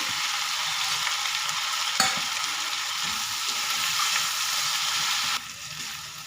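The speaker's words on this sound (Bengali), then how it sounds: "এর মধ্যে দিয়ে দেবো ভেজে রাখা আলু আর সিম বড়িগুলোকেও দিয়ে দেবো" Fried potatoes, flat beans and bori drop into curry in a pan, producing a continuous close sizzle with one sharp clink of stirring midway, softening slightly toward the end.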